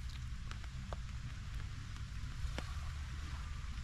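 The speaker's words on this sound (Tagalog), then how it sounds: "Sana hindi na lumakas tong ulan." Steady rain hissing across a broad band, with low rumble underneath and a few sharp drip ticks scattered through; continuous and fairly quiet, no voices.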